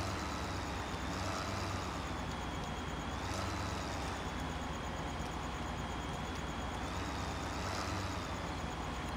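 A farm vehicle in the Landwirtschafts-Simulator 15 game drives along at a steady, dense engine drone with a faint whine rising and falling, loud and continuous throughout with no speech.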